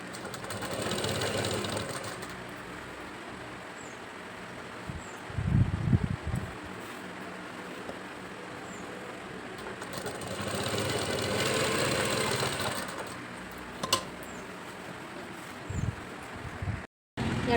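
A sewing machine stitches around a churidhar neckline in several sustained runs of steady mechanical whirring, broken by short pauses with fabric rustle and a few thumps.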